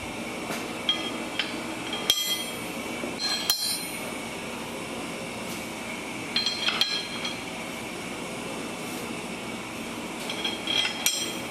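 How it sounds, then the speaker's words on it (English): Steel bolts drop and clink into a 5.7 HEMI engine cradle as it is lined up, several sharp metallic knocks and rattles spread through a quiet shop background without speech. "See if we can drop some bolts in this thing."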